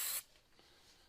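A quick, sharp hiss of CA glue accelerator sprayed onto a cracked wooden bowl on a lathe, lasting a fraction of a second before fading into near silence.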